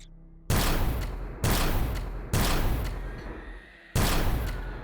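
Four loud, close sniper shots ring out in the space-survival video game Empyrion Galactic Survival, each a sharp blast trailing off into a long echo, spaced roughly a second apart, with no voices.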